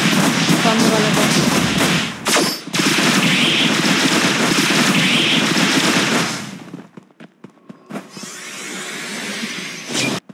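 Gunfire in the mobile battle game PUBG Mobile, loud and dense bursts of automatic shots that run continuously, break off briefly, then return in further rapid volleys up close.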